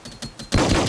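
Rapid gunfire bursts from a shooter video game, first a few short separated volleys, then a loud sustained barrage of overlapping shots that fills the rest of the moment.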